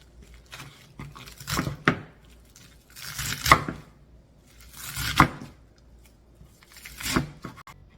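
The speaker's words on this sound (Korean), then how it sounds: "미나리는 반죽 썰어줍니다." Water dropwort being cut with a knife, heard as four separate bursts of crisp, rustling chops on a board, each cluster about a second long, close up and moderately loud with quiet gaps between them.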